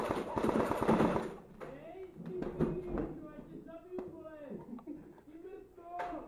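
Rapid bursts of airsoft gun shots crackle up close, fired through a hole in a cupboard, mixed with loud agitated voices talking over them.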